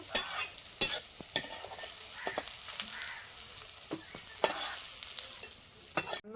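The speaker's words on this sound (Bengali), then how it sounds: "উনুনটা দারুণ জ্বলছে আর পেঁয়াজগুলোও প্রায় ভাজা ভাজা হয়ে গেছে" Onions frying in oil in a pan on a stove, a soft sizzling hiss with intermittent scraping stirs and clinks, close but fairly quiet.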